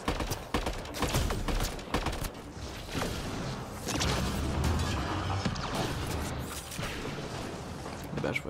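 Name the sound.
gunfire from a friend shooting in Mass Effect Andromeda video game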